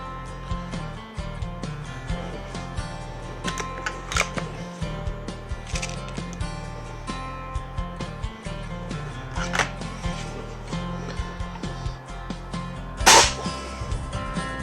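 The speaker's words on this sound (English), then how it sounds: "Cock the gun, hold the barrel, load your pellet, return the barrel, aim the gun," RWS 34P Pro Compact .177 break-barrel air rifle being cocked, loaded and fired, a string of sharp clicks and clacks from handling, with one louder snapping shot near the end, no speech.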